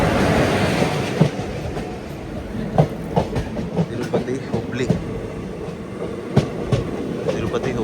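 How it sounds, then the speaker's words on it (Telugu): Train passing on railway tracks near Renigunta, with a steady rolling rumble and repeated clickety-clack wheel beats over the rails throughout, close and fairly loud. "ట్రైన్ అయితే పోతుంది. ట్రైన్ అది"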